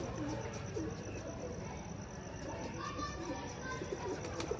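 Pigeons cooing at night at a pigeon club, soft low coos set against a constant dense background hum with insects chirping, and a voice speaking faintly over part of it.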